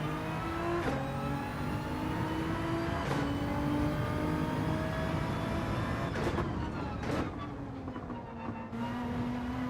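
A Nissan GT-R engine in Gran Turismo 7 racing, revving steadily and rising in pitch, with several brief dips where gears change, sustained and fairly loud throughout.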